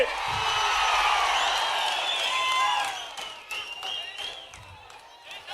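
A crowd at a political rally addressed by Chief Minister Chandrababu applauds loudly and steadily, with whoops and cheers on top, for about three seconds, then the clapping thins into scattered claps and calls.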